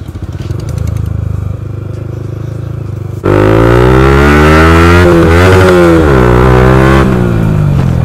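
A Yamaha R15 V4 motorcycle fitted with a loud aftermarket exhaust idles with a steady burble, then revs up sharply and holds a loud, rising, close-up engine note while riding a short loop.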